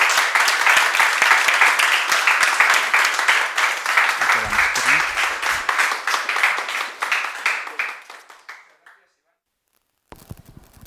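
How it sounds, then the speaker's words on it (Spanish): An audience at a religious freedom awards ceremony bursts into dense, loud applause that holds steady for several seconds, then thins and fades into silence. After a brief pause a little noise returns. "Por favor, un aplauso."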